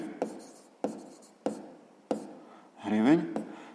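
Pen writing on paper during a sixth-grade maths exercise, with a few short scratchy strokes spaced evenly, close by; a brief voice sound comes near the end.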